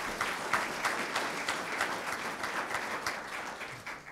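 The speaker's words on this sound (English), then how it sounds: "How about a round of applause for Mr." Applause from the audience at a STEM workforce development forum, a moderate crowd clapping with distinct individual claps standing out, beginning to thin near the end.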